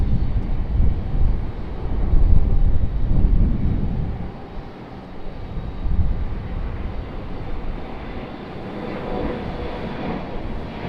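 A United airliner passing at Raleigh-Durham airport, a steady broad jet roar that swells early, eases, then lingers as a distant rumble, with no talking.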